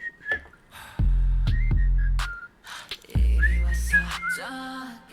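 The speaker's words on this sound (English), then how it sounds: "there's no melody apart from that whistling that" Whistled melody carrying the chorus of a K-pop song, bright tones over heavy bass hits that drop in and out, with no other lead melody.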